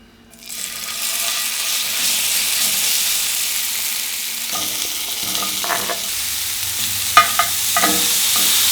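A bright hiss bursts up as onion, tofu and cauliflower hit hot oil, then sizzles steadily and loudly up close, with scraping stirs and a few sharp clatters of a utensil near the end.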